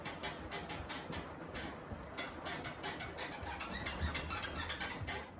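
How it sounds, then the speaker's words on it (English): Squeaking hinges on a dryer door during a Beko washing cycle, a rapid series of scratchy squeals repeating close to the microphone over a steady machine rumble, with no talking. "that's the hinges on my dryer"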